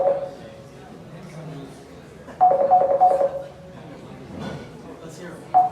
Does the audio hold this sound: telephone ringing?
yes